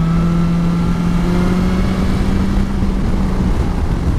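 A 2020 BMW S1000XR motorcycle engine runs steadily while riding through twisty roads, a loud continuous drone with a sustained tone that rises slightly, mixed with wind noise, and no talking.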